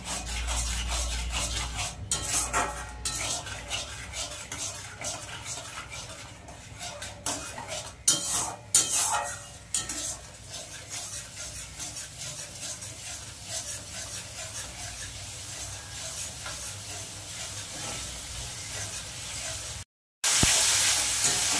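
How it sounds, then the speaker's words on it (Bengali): Spice paste for stuffed pointed gourd sautéed in a pan: repeated scraping and rubbing of a metal spoon against the pan, with irregular clinks and rasps, close by, ending in a brief silence and a burst of hiss. "ভালো করে মশলাটা কষিয়ে নেব"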